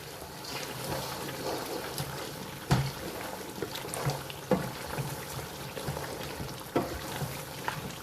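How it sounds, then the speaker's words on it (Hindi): Lamb Afghani karahi fries steadily in a wok as the oil separates, a continuous soft sizzle broken by occasional stirring knocks. "कढ़ाई देखिए अब ऑयल छोड़ना शुरू कर रही है"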